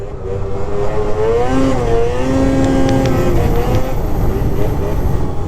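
An Arctic Cat 600 Catalyst snowmobile engine runs steadily and loud throughout, a continuous two-stroke drone with shifting pitch as it revs, close to the listener, no talking.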